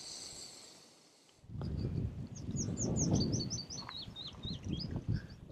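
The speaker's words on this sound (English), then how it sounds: "You can hear the birds." Birds chirp and trill outdoors in rural Ireland, a run of quick repeated whistled notes over a steady, rushing background.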